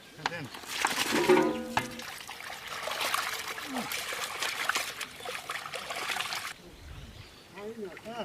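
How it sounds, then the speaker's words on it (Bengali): Water trickles and splashes as meat is washed by hand in a basin, a steady running-water sound with handling noises and a voice talking over it. "সুন্দর করে গোস্তটা ধুয়ে নেবো"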